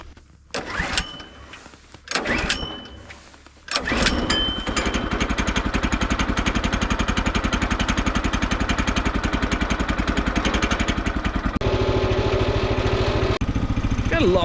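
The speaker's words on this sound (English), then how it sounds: "Gotta love those old 2-stroke engines, eh, like that." An old two-stroke engine on a Woodland HM122 sawmill sputters briefly a couple of times, then catches and runs loud and steady with a fast, buzzing rhythm, shifting tone near the end.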